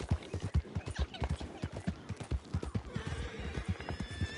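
Horse hooves clip-clopping in a steady trotting rhythm in the video game Red Dead Online, close and clear, with a whinny near the end.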